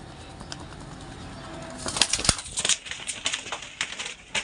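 Lotan pigeons at a pigeon farm, with soft cooing and restless rustling and wing flutters over a steady background hum, growing busier partway through.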